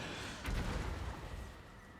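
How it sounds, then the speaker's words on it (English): A muffled explosion in the Total War: Warhammer 2 video game, a single dull boom that swells and fades quickly over a low rumbling battlefield background. "I feel like there should be a larger explosion from that."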